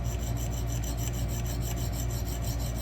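An 80CrV2 steel knife blade is stroked against a sharpening stone, a close, steady rasping grind with a quick repeating back-and-forth rhythm and no talk.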